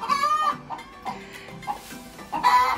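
Hens cluck in a backyard coop on a small farm, several birds making short, uneven calls close by, with a louder squawk near the end.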